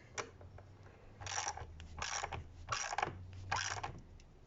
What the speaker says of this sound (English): Got the 10mm here, and you just tighten that on there.